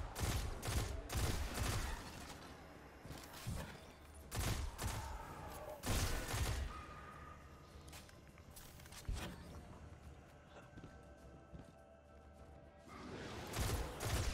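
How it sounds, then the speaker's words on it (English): Rocket launcher fire in Destiny 2 during a Legend Lost Sector run, heard as several heavy booming blasts with explosions spaced across the stretch amid game ambience, loud and close with quieter gaps between shots. "I'm going to go ahead and use another rocket"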